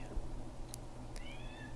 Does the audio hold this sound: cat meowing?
yes